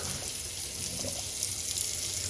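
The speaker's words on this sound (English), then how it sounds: "So I'm gonna pour it away, right in the middle of my colander here." Hot pasta water pours steadily from a pot into a colander in the kitchen sink, a continuous close rushing splash that stays even for the whole stretch with no speech.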